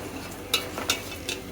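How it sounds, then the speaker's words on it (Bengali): Onions frying in a pan for pulao, with a soft continuous sizzle broken by three or four sharp scraping stirs of a utensil against the pan, close and alone. "পেঁয়াজগুলো ভেজে নিচ্ছি"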